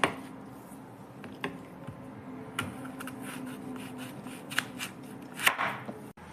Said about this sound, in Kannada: ಇನ್ನೊಂದು ಆ್ಯಪಲ್ನ ನಾನು ಹಚ್ಕೊತಾ ಇದ್ದೀನಿ ಹೋಳುಗಳಾಗಿ ಸಣ್ಣ ಸಣ್ಣ ಹೋಳುಗಳಾಗಿ